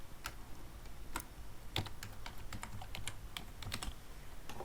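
Keys clatter on a computer keyboard as a new Windows password is typed, a run of quick, irregular clicks close by and fairly quiet, with no one speaking.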